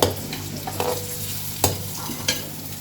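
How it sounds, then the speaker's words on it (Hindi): Steady sizzling of onions frying in a pan, punctuated by a few sharp clinks and scrapes as they are stirred. "प्याज को करते हैं फ्राई।"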